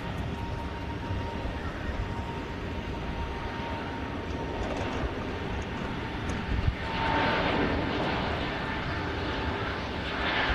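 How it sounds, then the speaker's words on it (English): An EasyJet airliner departing Manchester Airport, a sustained broad engine roar that holds steady and swells slightly toward the end, heard from the airfield's edge without voices. "And from one EasyJet arriving, we'll quickly pan round and capture this departure."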